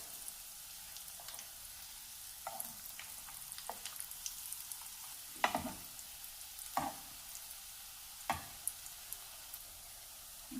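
Breaded chicken lollipops fry in hot oil with a faint, steady sizzle. Occasional louder pops and light clinks rise over it, heard up close with no speech.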